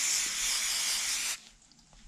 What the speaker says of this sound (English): I sprayed the carb with carb cleaner, and we're going to be continuing to spray the carb